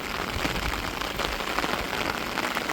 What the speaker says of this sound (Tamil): பாருங்க மழை மட்டும் பேஞ்சிக்கிட்டு இருக்குது